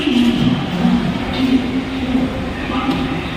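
Platform 9 of an Indian railway station on a journey from Badrinath to Delhi, with a steady low rumble of trains and rail traffic, loud and continuous, and faint crowd murmur in the background.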